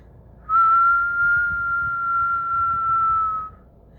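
A person whistles one sustained, steady tone for about three seconds, imitating an eerie, distant-sounding whistle heard in a supposedly haunted house. The whistle stands alone with no talk around it.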